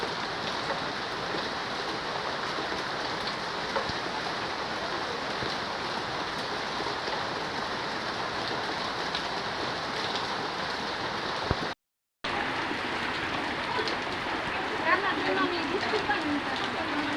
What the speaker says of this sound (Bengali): আজকে 3 দিন ধরে এত বৃষ্টি হইতেছে, নিম্নচাপ উঠছে, এর জন্য বৃষ্টি হইতেই আছে